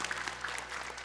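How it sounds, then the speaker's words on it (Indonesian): Audience applause on an Indonesian Quran-recitation talent show stage, a short burst of steady clapping at moderate level with no talk over it. "Tepuk tangan dong."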